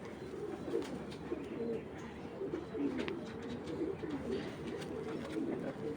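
A strong male racing pigeon coos repeatedly at close range, low throaty rolls recurring through the stretch, with light rustling and faint background chirps.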